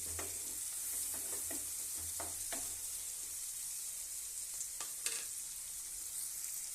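Sliced onions sizzle and fry in an oily pan for a chana masala, a steady bright crackle with occasional stirring scrapes and clicks throughout.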